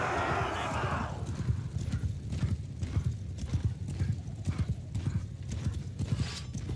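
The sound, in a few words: horse hooves of horse archers in a video game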